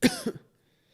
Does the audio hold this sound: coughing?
yes